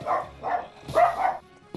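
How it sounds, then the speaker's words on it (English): Dogs barking at a mailman, a few sharp barks in separate bursts with short gaps, moderately close and heard without talk. "My dogs are barking because the mail."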